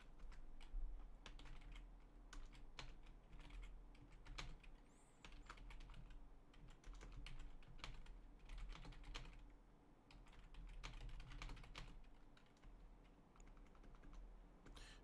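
Quiet, rapid clicking of a computer keyboard being typed on steadily, with brief pauses, alone with no voices.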